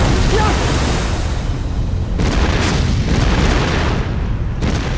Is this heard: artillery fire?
yes